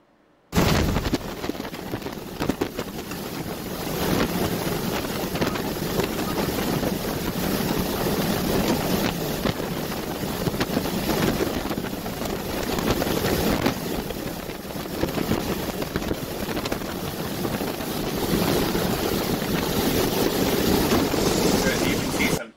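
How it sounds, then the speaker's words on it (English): Extreme 171 mph wind on the summit of Mount Washington, a continuous loud roaring rush battering the microphone, with gusting surges and no break for over twenty seconds. "I want to show you a video so you can see what 171 mile per hour wind is looking like."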